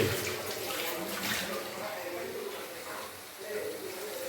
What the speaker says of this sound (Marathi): थोडं पाणी टाकून द्यायचं त्याच्यामध्ये.